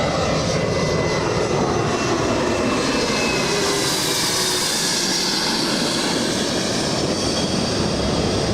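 Aircraft arriving at Los Angeles International Airport, a broad continuous engine roar that swells and holds loudly throughout, with no talk.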